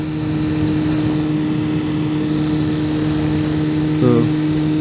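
A motorcycle held at high revs on a ride around Oslo gives a steady droning engine hum with strong tonal whine and wind rush, constant and close, with a brief clunk near the end.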